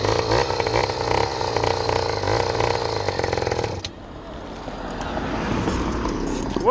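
A motorcycle rides past on a city street, its engine droning loudly and steadily with a dense harmonic whine before dropping off sharply as it moves away, leaving a rougher, fading rumble.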